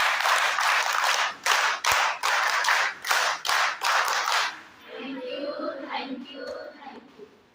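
A group gives a round of thank-you clapping, with bursts of many hands close by and brief pauses between them, fading into soft murmuring voices at the end.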